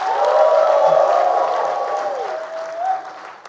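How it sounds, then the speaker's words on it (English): A tech and finance conference audience bursts into applause mixed with loud shouts and whoops, a dense crowd roar that tapers off toward the end. "Please, somebody add that clap with a shout."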